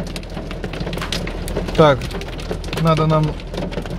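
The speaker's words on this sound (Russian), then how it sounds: "Град не прекращается." Hail pelts a car on the road during a storm, a dense, steady patter of sharp taps over engine rumble, while someone talks briefly over it.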